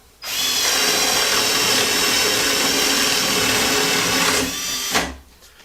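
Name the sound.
Hercules 12 volt drill boring 3/4 inch spade bit into pine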